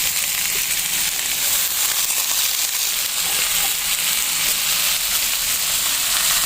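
Fish paksiw simmering in a pan, giving a dense, even hiss and sizzle that holds at a steady level without a break.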